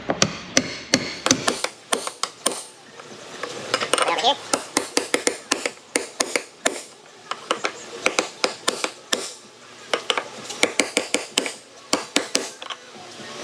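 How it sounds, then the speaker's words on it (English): A dull chisel hammered to drive a ring into place on a 2019 Ram 1500 5.7, with a long series of sharp metallic taps, some single and some in quick pairs, close and loud, with only faint background noise. "I'm just gonna take a dull chisel and use that to drive this ring."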